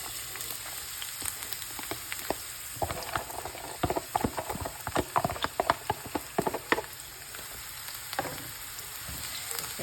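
Diced large onion sizzling in hot oil in a pan, a continuous close crackling hiss with dense sharp pops and spits bursting through, loud and steady with no talk.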